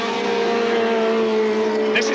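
Formula racing cars at the 1982 International Trophy at Silverstone give a steady, droning engine whine, fairly loud and continuous, under a commentator's talk.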